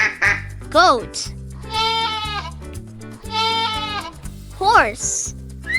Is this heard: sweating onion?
no